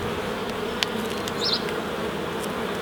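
Honey bees hum in a dense, continuous buzz close by during a hive inspection, with a few faint clicks over the steady drone.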